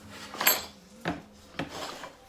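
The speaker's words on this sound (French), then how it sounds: "je vais mettre un petit coup de domino" Festool Domino joiner cutting mortises into wood in a workshop, heard as three short separate bursts of rasping, whirring machining, each loud and brief, with quiet pauses between them and no talk.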